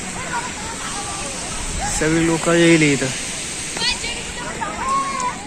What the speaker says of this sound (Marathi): मित्रांनो धबधब्याचं पाणी खूप वाढलेलं आहे